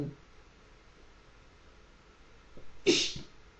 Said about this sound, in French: j'ai des éternuements